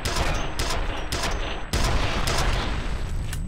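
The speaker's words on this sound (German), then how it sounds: "dann schieße ich halt eben zurück" Gunfire in the first-person shooter F.E.A.R., loud repeated bursts of shots with a short gap midway, dense and continuous across the moment.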